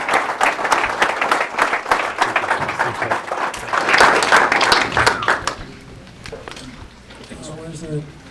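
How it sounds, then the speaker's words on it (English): An audience at a real-estate panel event on new construction in Knoxville bursts into loud, sustained clapping that tapers off toward the end, with some voices mixed in. "Hey, big round of applause for our panel."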